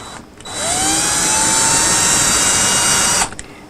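A power drill driving screws into an electric guitar whirs loudly and steadily for about three seconds, close up, starting and stopping abruptly.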